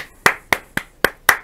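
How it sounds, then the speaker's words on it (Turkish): A single pair of hands claps five times at an even, unhurried rhythm, each sharp and close with a short decay, alone with no talk. "alkışlıyoruz cidden"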